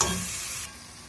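Chicken frying in a pan with garlic ginger paste, a dense close hiss of sizzling oil that is loud at first and then eases slightly as it is stirred, with no voices.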